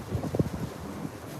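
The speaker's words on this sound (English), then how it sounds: "It's a little windy today" Wind blowing across an outdoor microphone, a low rumbling buffet with uneven gusty swells, steady and fairly faint throughout.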